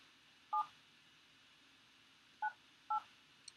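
Three short electronic telephone keypad dialing tones, one alone and then two close together after a pause, beeping against a quiet background.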